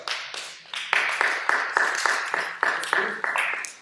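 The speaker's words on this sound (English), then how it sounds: "We need enthusiastic applause after everybody's performance." Evenly spaced claps ring out in a small group setting during a conducting class after a performance, a brisk run of a dozen or so sharp, close hand claps.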